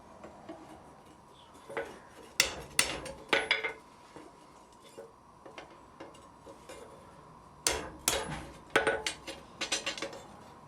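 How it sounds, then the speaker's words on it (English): Sharp metallic taps in quick clusters, a light hammer setting a rivet on forged blacksmith tongs, with pauses between bursts; close and fairly faint. "I always use the lightest hammer that I have to set the rivet."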